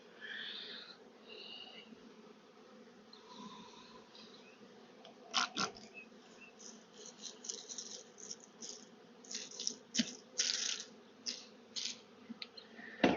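Honey bees swarm around a thorny tree limb, a faint, steady buzzing drone with irregular sharp knocks and rattles breaking through, more frequent toward the end.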